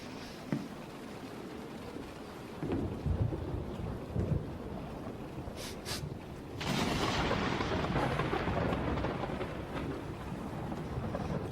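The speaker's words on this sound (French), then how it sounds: "On dirait pas qu'elle risque de passer si vite, cette tempête." Steady rain hisses through a thunderstorm while thunder rumbles and cracks, with a louder, sustained roll in the second half, heard at a moderate distance with no voices.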